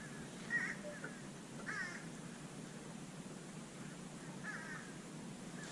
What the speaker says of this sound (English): Them's crows.